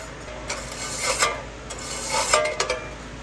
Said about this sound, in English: all I'm gonna do is just give this a quick little wire brushing.